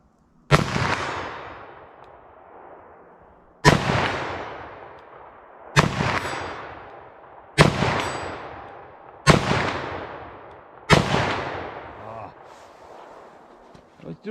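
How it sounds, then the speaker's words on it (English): Handgun shots firing 9mm+P, .357 Magnum and .357 Sig rounds, six loud sharp reports spaced a couple of seconds apart, each leaving a ringing decay outdoors. "I think I missed that first shot."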